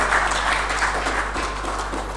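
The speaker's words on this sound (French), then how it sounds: "On peut applaudir pour cette initiative." Applause from an audience at a press conference, a steady dense wash of clapping through the whole moment, moderately loud and without speech.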